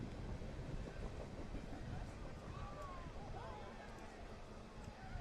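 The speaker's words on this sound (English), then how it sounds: "Train passing by behind." Train rumbling past behind a boys varsity high school soccer field during a York vs. Lane Tech match, a steady low roar with faint rail squeals, under crowd and voices.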